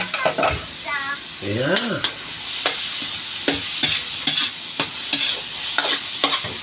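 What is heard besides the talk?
sautéing pancit ingredients in a pan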